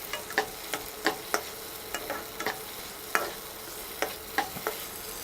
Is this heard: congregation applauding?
no